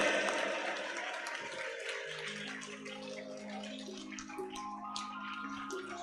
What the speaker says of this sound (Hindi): थोड़ा उत्साह से ताली बजाइए